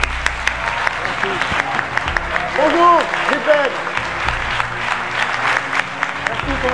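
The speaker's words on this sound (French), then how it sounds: "Je voudrais qu'on applaudisse très fort Big Ben." A studio audience on a French-language morning show claps through the whole stretch, with someone speaking and greeting a guest over the applause.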